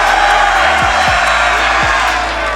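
Esports crowd at an Atlanta Major grand final, a loud, steady wash of cheering and noise from a large arena audience filling the whole stretch with no clear breaks.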